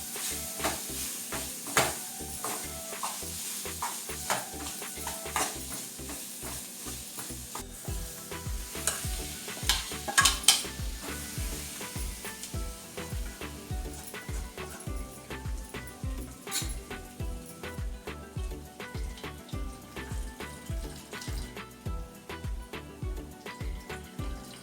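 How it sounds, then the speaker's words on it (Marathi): Fried onion, green chili and turmeric are stirred in a hot pan for a Marathi moong dal pendpala. A steady sizzle runs under repeated rhythmic scraping strokes, close and distinct, with no talk. "आता हे सर्व व्यवस्थित मिक्स करून घ्यायचं आहे"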